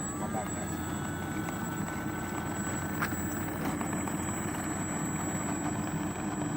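An E-flite T-28B Trojan RC model airplane of 1.2 m wingspan drones steadily through a long drawn-out takeoff run at a model airfield, its electric motor whine sustained and fairly distant.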